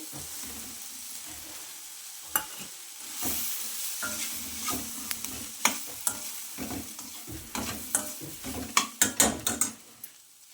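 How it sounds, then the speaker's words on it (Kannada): Grated coconut frying in a pan for chicken sambar, a soft sizzle under repeated scraping stir strokes and sharp spoon clinks against the pan, close and moderately quiet. "ಚೆನ್ನಾಗಿ ಫ್ರೈ ಮಾಡ್ಕೋಬೇಕು ಇದನ್ನು ಇವಾಗ ಒನ್ ಕಪ್ ಕಾಯ್ತುರಿ"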